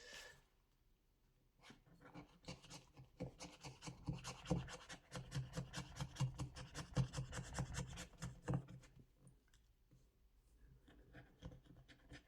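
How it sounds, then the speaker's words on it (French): A scratch-off card square is scraped in quick rhythmic strokes, a close, faint, dry rubbing and scratching sound lasting several seconds before it fades. "donc il faut que je gratte cette case-là"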